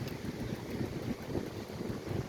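Wind buffeting on Fort Myers Beach in Florida, a faint, continuous low rumble and rush of gusts with soft surf-like noise underneath, no voices.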